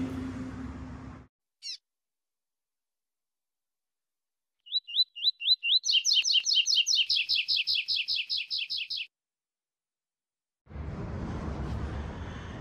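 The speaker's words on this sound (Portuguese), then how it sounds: "dá para vocês notar o canto do coleiro" A caged coleiro, or double-collared seedeater, sings a close, loud run of rapid repeated high chirps for several seconds, between stretches of quiet and soft background noise.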